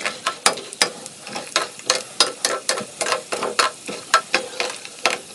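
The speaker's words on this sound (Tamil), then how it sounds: "வறுத்த கடலை தான் கொஞ்சம் லைட்டாக நம்ம பொறிச்சிட்டு போட்டுக்கலாம்" Roasted peanuts fry in oil for Diwali kara boondi, a ladle stirring them in steady, rhythmic scrapes over a light sizzle, close and clear.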